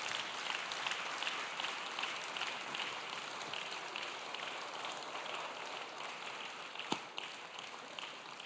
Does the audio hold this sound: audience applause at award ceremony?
yes